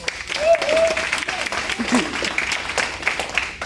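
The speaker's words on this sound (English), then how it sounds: "Give Coach Will a round of applause." Audience applause for a coach at a youth baseball league banquet: a steady round of clapping from a room of people, moderately loud, with voices talking over it.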